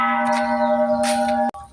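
A Thai temple bell in a bell tower rings once with a bright, sustained metallic tone that hums steadily, then cuts off abruptly, leaving faint background sound.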